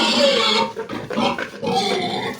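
A boar grunts and snorts loudly and close by in a barn, a run of rough, throaty grunts with short breaks between them.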